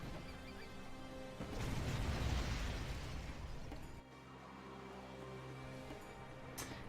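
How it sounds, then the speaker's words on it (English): Flashbang explosions in the Zero Hour strategy game, heard as a broad, rumbling blast that swells and fades over a couple of seconds against steady background game music, followed by quieter ambience. "Flashbangs come in."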